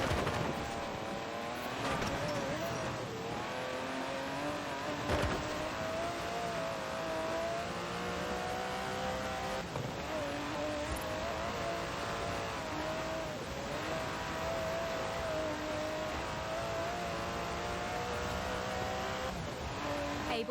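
Aston Martin DB11 with a 5.2-litre twin-turbo V12 in the racing game Forza Horizon 4, a steady loud engine drone that rises and shifts through gears for about twenty seconds, alone without talk.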